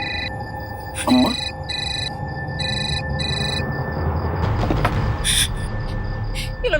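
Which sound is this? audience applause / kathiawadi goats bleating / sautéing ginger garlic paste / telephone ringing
telephone ringing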